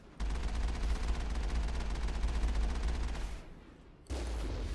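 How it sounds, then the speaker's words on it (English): Mass Effect Mako vehicle cannon and machine-gun fire at the ExoGeni Facility, a steady rapid stream of shots lasting several seconds with heavy low rumble, a short pause, then firing resuming. "Let's go ahead and start using the Mako to gun these guys down."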